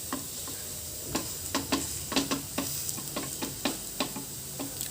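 Cucumber thalipeeth fries in oil on a pan as a steady soft sizzle, with repeated sharp clicks and scrapes from a spatula pressing and turning the flatbread.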